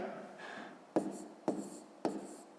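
Pen writing on paper during a fifth-grade math exercise, a soft scratching stroke followed by three sharp taps spaced about half a second apart, close and quiet.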